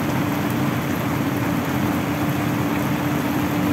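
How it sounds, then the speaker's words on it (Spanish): Heavy, dense rain from Hurricane Pamela pours nonstop outside a factory entrance in Guasave, Sinaloa, a loud and even roar with no voices or breaks. "Es que esta lluvia es por un ciclón que anda."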